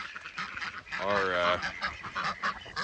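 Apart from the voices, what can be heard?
ducks quacking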